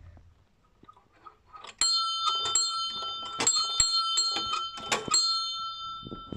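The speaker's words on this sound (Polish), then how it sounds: "Dzwon Najświętsze Serce Jezusa bije tak." Church bell named Most Sacred Heart of Jesus ringing in a belfry, a series of clear metallic strikes with long ringing overtones, loud and close, one after another at an irregular pace.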